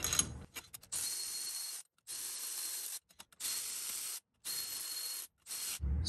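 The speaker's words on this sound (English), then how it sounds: "Now I'm just gonna grab my Milwaukee ratchet and cinch these up" A Milwaukee cordless ratchet buzzes in several short bursts with brief pauses, tightening the leaf spring U-bolt nuts on a first-generation Toyota Tundra, close and alone.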